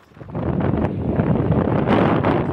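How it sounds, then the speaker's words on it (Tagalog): Strong typhoon wind roars steadily into the microphone in Ilocos Norte, Philippines, a dense buffeting rush with gusts swelling louder toward the end, no voices. "Binayo rin ang malakas na hangin ng ilang lugar sa Ilocos Norte."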